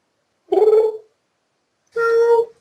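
A person's voice imitates a cat, giving two drawn-out meows separated by a pause of silence, close and fairly loud.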